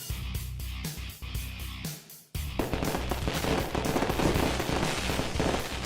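Video game fireworks crackle in rapid bursts of popping bangs, pausing briefly before resuming as a dense, continuous barrage.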